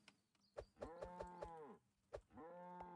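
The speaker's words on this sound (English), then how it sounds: "Can I kill these cows?" Cows in the video game Vagabond moo in two long, drawn-out calls with clicky footstep-like taps between them, fairly close and clear with no talking.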